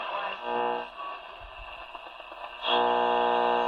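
A 1948 Emerson 558 tube portable radio picks up lighting interference as a loud, buzzing hum with harmonic overtones that dips briefly and returns stronger, close and continuous with no speech.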